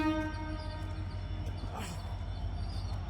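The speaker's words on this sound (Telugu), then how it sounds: "ఇప్పుడే రావాలా ట్రైన్" A train rolls past near Panjagutta in Hyderabad, opening with a sustained horn blast and then settling into a steady low rumble of wheels and carriages, loud and close.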